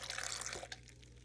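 Water pours into a Vitamix blender jar as a short, bright splashing trickle that tapers off within about a second, close and fairly quiet over a low hum.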